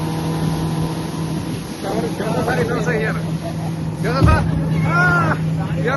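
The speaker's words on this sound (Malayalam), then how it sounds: "നമ്മുടെ സാരഥി ആവേ, ശ്രീശാനി, ഇതാട്ടോ പോണ ബോട്ട്" A motorboat engine hums steadily throughout a boat safari in Nepal, with people talking over it and a brief louder burst near the end.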